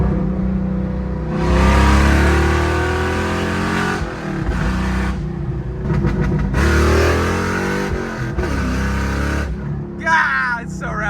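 A 2-valve V8 in a New Edge Mustang GT revs hard through an open H-pipe exhaust, rising and falling in loud, rowdy bursts with crackles, close by.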